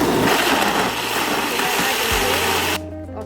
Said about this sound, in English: this blender right here, go ahead, start blender.